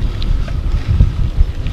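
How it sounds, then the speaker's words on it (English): Wind rumbles and buffets the microphone during a bike ride on a rural road, a steady low roar that swells in a few stronger gusts, with no talking. "It's cleared up. A little more wind now, though, unfortunately."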